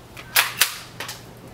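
Subsonic .22 rifle with 40 grain bullets fired at metal plates: two sharp, fairly close reports about a quarter second apart, followed by a fainter third crack, with no talk.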